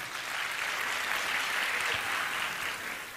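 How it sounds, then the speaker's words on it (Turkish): Sustained applause from an audience at an evening city event, honoring the governor and the mayor. The dense, even clapping stays loud and steady throughout, with no voices over it. "Sayın Valimize, Sayın Belediye Başkanımıza güçlü alkışlar kendileri için."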